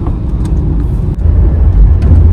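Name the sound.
heavy road traffic heard from a car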